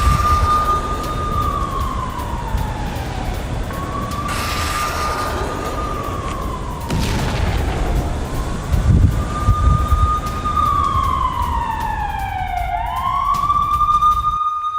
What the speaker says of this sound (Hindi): पूरे शहर में बज रहे हैं सायरन।